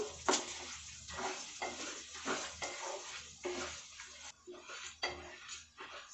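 Curry leaves roasting in a pan on a medium flame, stirred continuously for Nellore-style curry leaf powder: repeated scraping and rustling strokes with a dry crackle, close and fairly loud, with no talking.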